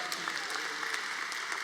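A church congregation claps, a dense, even wash of applause that stays steady and fairly loud for a moment, with no voice over it.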